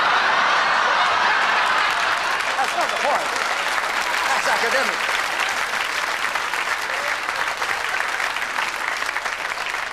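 A theatre audience at a comedy stage show applauds loudly and continuously, dense clapping throughout with a voice speaking briefly over it.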